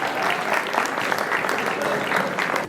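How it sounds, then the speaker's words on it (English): A school audience at an inter-house science quiz breaks into a round of applause, dense and continuous clapping at a steady level throughout. "Guys, a round of applause for these guys."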